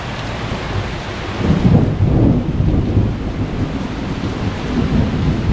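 A thunderclap from a passing storm rumbles loud and low over steady rainfall, swelling to a peak partway through and then rolling away into a continuing wash of rain, with no voices.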